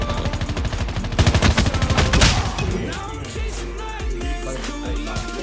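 Light machine gun firing in Call of Duty Mobile: loud, sustained automatic bursts of rapid, tightly spaced shots, easing into scattered shots and booms over a steady game backdrop.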